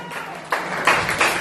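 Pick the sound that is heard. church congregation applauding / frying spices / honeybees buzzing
church congregation applauding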